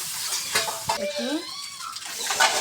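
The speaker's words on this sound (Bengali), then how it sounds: "পানি দিয়ে দিলাম।" Water poured into spiced beef in a hot pan with salt and chili powder, bringing a burst of sizzling, bubbling and stirring scrapes that rise and fall close by, with no clear talk.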